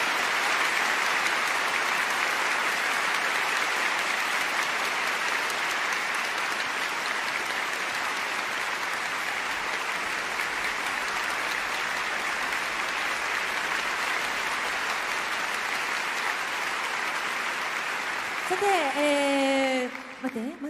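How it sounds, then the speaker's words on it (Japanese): A concert audience at a classical performance of Shigatsu wa Kimi no Uso music applauds in a long, sustained wash of clapping, steady and full throughout, with a voice starting briefly over it at the very end. "大きな拍手をお送りください。"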